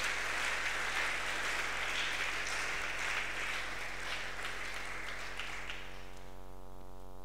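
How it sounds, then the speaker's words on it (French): A crowd applauds steadily, a dense wash of clapping that continues for several seconds before fading out near the end. "Est-ce que nous pouvons l'accueillir en applaudissant?"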